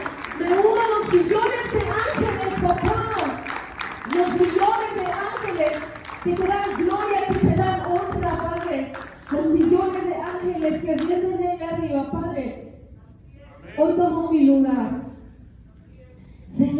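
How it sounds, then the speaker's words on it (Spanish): Church congregation claps along with voices, rhythmic hand claps mixed with singing or shouted praise throughout, loud and close, pausing briefly near the end before resuming. "Denle un aplauso a Dios con todo su corazón"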